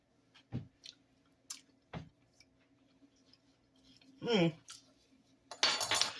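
A spoon scrapes and clinks against a dish of stuffed deviled eggs, with a few separate clinks and a louder clatter near the end, close by in a quiet kitchen.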